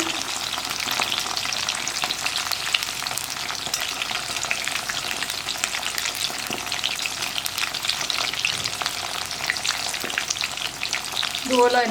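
Chicken pieces fry in a covered pan for a spicy chicken fry, making a continuous crackling sizzle with dense popping spatters at a steady moderate level and no voices.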